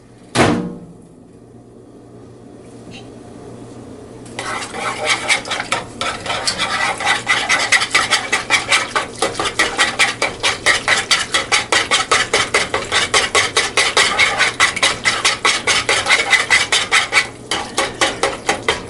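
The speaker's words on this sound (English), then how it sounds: "we'll add the milk to the butter mixture, and we'll whisk that together for another 2 minutes" Milk being whisked into a butter mixture in a pan for baked lobster macaroni and cheese, a sharp clank at the start, then a steady, fast, rhythmic scraping of the whisk against the pan that grows louder and continues unbroken with no talking.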